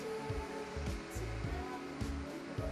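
An electric fan blows a steady, even whoosh across a freshly thrown ceramic cup resting on a wheel bat, drying the clay. The airflow stays continuous and fairly close, with a low rumble and no voices.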